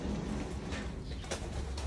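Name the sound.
pet birds cooing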